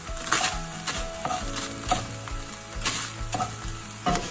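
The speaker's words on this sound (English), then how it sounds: "Probably about maybe 3-4 cloves of garlic there. We're going to give that a stir." Three or four garlic cloves fry in a pan with a steady, loud sizzle, while a spoon stirs through them in regular scraping strokes about every half second; no voices.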